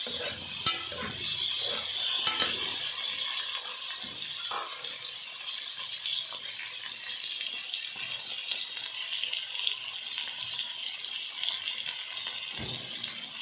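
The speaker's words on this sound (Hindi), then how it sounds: "ये प्याज ब्राउन हो जाए, इसमें हम गोश्त को भूनना है।" Mutton frying in a pot with browned onions, a steady broadband sizzle and occasional stirring scrapes running throughout, close and fairly loud with no talking.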